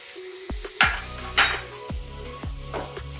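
Carrot halwa is stirred in a pan: a few separate scraping strokes and clinks of a spoon against metal over a faint sizzle, spaced roughly every half second to second.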